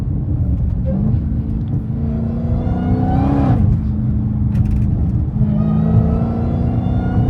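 A Dodge Hellcat Redeye with catless mid pipes rumbling loudly from inside the car, its supercharger whine rising and falling as the engine revs, the deep exhaust drone continuous throughout.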